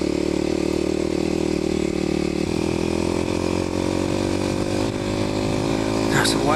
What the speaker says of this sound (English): So Quickie King and John whack open their throttles, come through here at 50 miles an hour